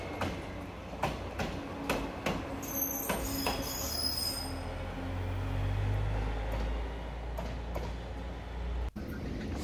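Diesel locomotive of a freight train rolling at Soga station at night or early morning, a steady low rumble with rhythmic wheel clicks over rail joints, fairly close and continuous.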